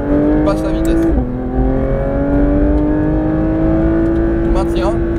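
Porsche 992 GT3 RS engine on a racing circuit, heard from inside: a loud steady tone dips briefly at a gear change, then climbs smoothly as the car accelerates, with faint ticks and rattles.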